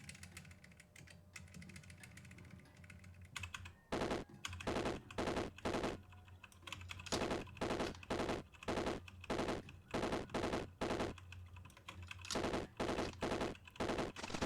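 Gunfire in the video game Caves of Qud: rapid bursts of loud digital shots repeating in quick volleys with brief gaps between them, preceded by a few quieter seconds.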